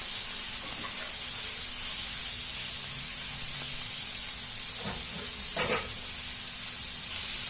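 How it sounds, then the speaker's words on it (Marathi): Raw oil poured over fenugreek greens cooking in a pan gives a continuous loud sizzling hiss, close and even, with a few brief crackles near the end and no voices. "हे आपण वरतून कच्चं तेल सोडतो ना, तिच्यामध्येच ती भाजी छान कलचवली जाते."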